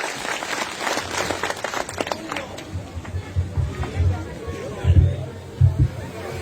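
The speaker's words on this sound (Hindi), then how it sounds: "जोर से ताली बजाओ।" A crowd claps at a farmers' rally, with dense clapping in the first couple of seconds that fades into crowd chatter, voices and a few dull thumps.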